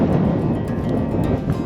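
Strong wind blowing outdoors at a grouse camp, a loud, continuous rushing roar buffeting the microphone with uneven gusts and no break for nearly two seconds.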